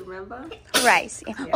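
A single sharp sneeze bursts out indoors during a home therapy session, loud and close, set between bits of casual speech before and after it.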